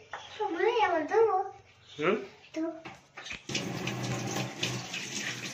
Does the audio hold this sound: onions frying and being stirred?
no